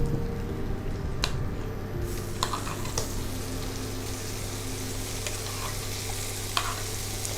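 Paneer cubes tossed and stir-fried in a hot pan for paneer jalfrezi, giving a steady close sizzle with scraping stir strokes and a few sharper clinks, no voices.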